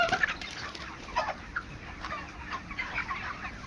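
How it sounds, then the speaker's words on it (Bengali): Black poultry hens cluck and chatter in a coop, a flock of several birds with soft, scattered calls at moderate distance and no talk. "দেখেন কত কত মুরগি আছে"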